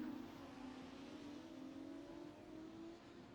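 Formula 2 race cars on the Bahrain circuit during a feature race pass in a steady stream, a continuous engine drone with a slowly shifting pitch that stays moderately loud throughout.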